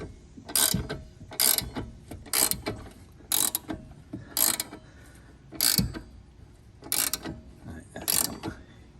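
A ratchet turns a pinch bolt on the front control arm of an Audi B8 A4, A5, S4, S5 or Q5, sounding as about nine close, loud bursts of clicking at a steady pace with short pauses between strokes.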